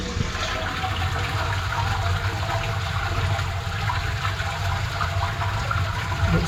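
A toilet flushes after a new flush pipe cone is fitted, a steady loud rush of water running the whole time and then settling toward refilling, with no voices.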